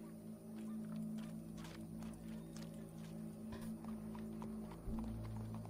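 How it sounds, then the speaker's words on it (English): Horse hooves clip-clop in the Red Dead Redemption 2 video game, a faint, irregular series of hoof knocks over a low steady hum, with a heavier thump near the end. "Go brush that horse, officer."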